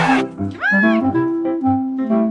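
Close cat vocalizations, a drawn-out meow rising and falling with a second cat's overlapping murmurs and yowls.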